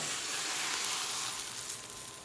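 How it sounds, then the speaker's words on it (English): Loud, steady sizzling of hot oil poured onto grated potatoes, a continuous crackling hiss with no voices. "hear that nice sizzle"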